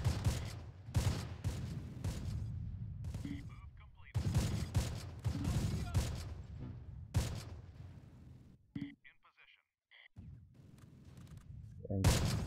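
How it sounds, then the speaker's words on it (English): Wartime combat from the Close Combat: The Longest Day game at La Fière Causeway: bursts of rifle and machine-gun fire crackle in dense volleys with heavy thuds, broken by short pauses and quieter moments. "And G team is firing at them, okay."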